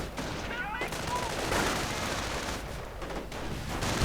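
Rifle gunfire from riflemen in a real-time strategy video game, with quick bursts of shots and crackling volleys layered over a busy battle din, fairly faint and continuous.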